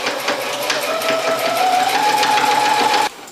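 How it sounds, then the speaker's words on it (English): A sewing machine runs steadily, stitching a seam on a tailored sportcoat with a continuous buzzing motor and rapid needle clatter, loud and close, stopping abruptly just before the end. "make sure that I'm keeping a consistent stitch all the way down"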